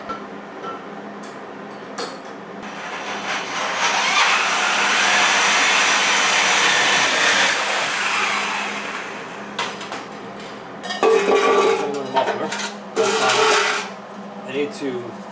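Muffler pipe for a 1953 Buick being cut in a vise with a power tool: a long loud whining, grinding cut that builds and fades, followed by short bursts of clanking and cutting, with someone talking at times.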